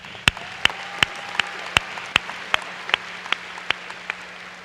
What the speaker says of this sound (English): give a huge round of applause to the amazing teachers, staff, parents, and mentors